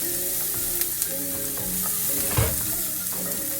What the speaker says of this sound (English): And then I'm going to add my peppers in there. And let them two saute together.